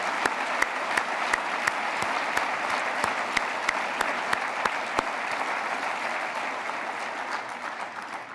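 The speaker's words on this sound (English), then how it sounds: "How about a big round of applause for this great organization?" Gala audience at an entrepreneurship celebration applauding steadily for over eight seconds, dense clapping with a few sharp individual claps standing out, tapering slightly at the end.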